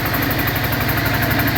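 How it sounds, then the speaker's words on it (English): An older Cub Cadet 125 Hydro garden tractor engine runs at a steady idle, loud and close, with an even throbbing pulse and a constant mechanical rumble and no one talking. "The thing runs probably the best running tractor I've ever owned."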